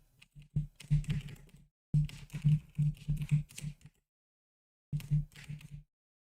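Rapid bursts of mouse clicks while playing XCOM 2 on a computer, close and clear, in three clusters separated by short pauses, with no talking.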